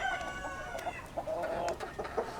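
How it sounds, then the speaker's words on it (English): A bantam rooster kept on a rooftop farm high above New York City clucks in short bursts and crows, with close, sharp calls and brief pauses between them. "He scratches, backs off, pecks, and crows."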